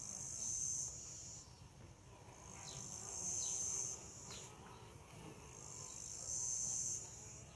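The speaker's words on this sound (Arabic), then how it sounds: "فيما يخص لغة النحل في جلب الرحيق أو جلب العسل" Honey bees buzz while gathering nectar, a thin high drone that swells and fades in three repeated waves over a soft low background, fairly close but not loud.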